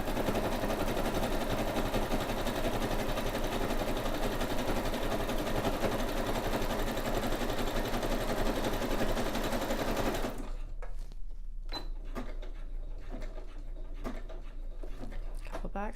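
Sewing machine stitching fabric to make grow bags, a loud, steady whirring run for about ten seconds that stops abruptly, followed by a few soft clicks and handling noises.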